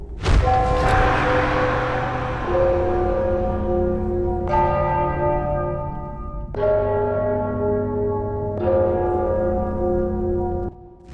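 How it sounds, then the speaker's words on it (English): A large bell in the Enderal puzzle is struck four times, each strike a loud resonant clang with a long ringing decay that overlaps the next, spaced a couple of seconds apart. "It's just a bell. It makes a sound when you hit it."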